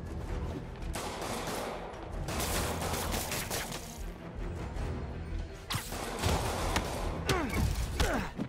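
In Marvel's Spider-Man, police open dense, continuous gunfire that crackles loudly amid whooshes and crashes of game action.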